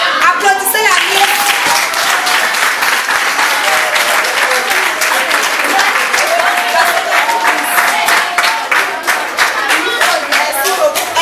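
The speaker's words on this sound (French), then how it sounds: "Applaudissez la Miss." A school pageant audience at a college in Songon applauds the winning Miss with loud, sustained clapping from many hands, dense and close, with voices and cheers mixed into the crowd throughout.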